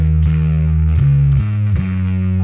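A heavily distorted electric guitar played through a JHS Crimson 1992 Russia fuzz pedal on the front pickup plays a few thick, warm, fuzzy chords close up, the notes sustaining and changing in a slow riff.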